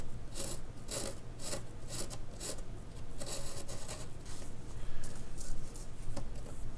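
A pencil tip carves into a foam block with continuous close scratchy rasping in uneven strokes, quiet and unaccompanied by talk.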